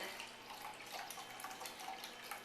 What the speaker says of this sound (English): We're going to take our vegetable stock and put in